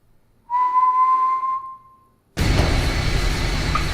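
A single clear whistle used as a signal in a Squid Game–style deadly game sounds as one sustained tone for about a second, followed by a sudden loud rumbling noise.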